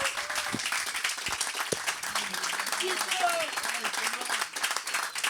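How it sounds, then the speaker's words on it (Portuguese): Applause from the audience at an interview event on the Benfica club elections, a steady dense wash of clapping lasting several seconds, with scattered voices and a few cheers mixed in. "uma salva de palmas para o João Ferreira Leite"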